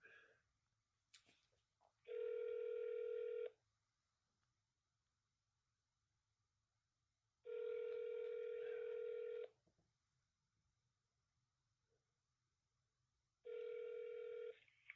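A phone rings back on a call to a wife, three long electronic ringback tones spaced a few seconds apart with quiet gaps and faint clicks between them.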